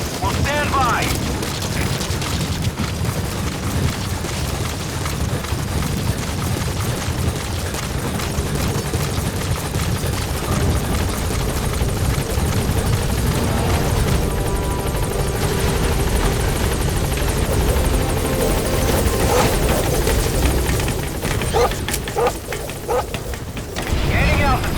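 In a video game, the Pequod helicopter sets down at a landing zone with a loud, continuous rotor roar and engine drone close by that fills the whole stretch. A radio voice speaks over the noise.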